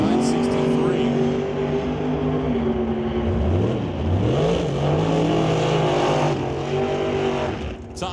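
Drag racing launch of a 1995 Pontiac and a 1988 Mustang: loud, sustained engine roar with rising and falling revs as the cars leave, with a commentator talking over it throughout.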